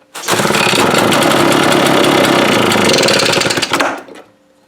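A leaf blower's small engine is cranked and roars to life, a loud, close, harsh racket that holds for about four seconds before cutting out abruptly and fading.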